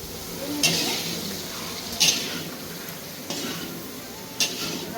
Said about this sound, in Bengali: খালি মাছ ভাজা হচ্ছে